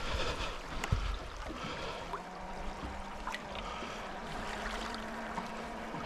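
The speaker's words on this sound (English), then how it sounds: "That water is what we're hearing." Water sloshing and lapping against a fishing boat at sea off Alaska, a faint steady wash with a few sharp knocks and clatters nearby and no talk.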